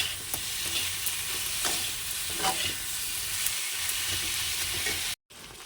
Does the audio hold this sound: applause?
no